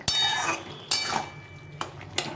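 A spoon scrapes and clanks against a cooking pot while pumpkin and Malabar spinach curry is stirred, several distinct metallic strokes with short gaps between them, close and fairly loud.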